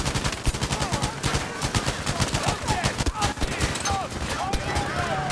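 Rapid video-game gunfire in dense, overlapping bursts of shots, loud and close, with a voice talking over parts of the barrage.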